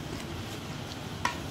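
Food mixture being stirred in a pan, a soft steady scraping with a faint sizzle, and a single small clink near the end.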